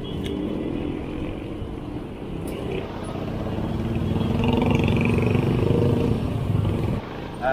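Heavy road traffic full of trucks, heard from a delivery motorbike, makes a continuous rumble of engines that swells louder midway, with a brief hiss of air brakes and clatter near the end.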